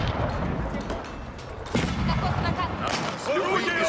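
Artillery gunfire in Age of Empires 4, Rus Streltsy battle, booming shots rolling under constant game noise and a voice talking throughout.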